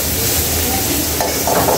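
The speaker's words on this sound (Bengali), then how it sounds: "পেঁয়াজটা লাল লাল করে ভাজা পর্যন্ত এটাকে নেড়ে চেড়ে দিচ্ছে।" Onions frying until reddish-brown in a pan for a mixed vegetable curry, with a steady close sizzle and the scrape of stirring throughout.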